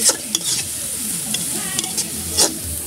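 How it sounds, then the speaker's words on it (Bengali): Vegetables being stirred and fried in a home kitchen pan, with steady loud sizzling and the scrape of a spoon against the pan, a few sharper stirring clatters standing out. "এগুলো সুন্দর করে ভেজে নিয়ে এই সবুজ শাকগুলো দিয়ে দিব।"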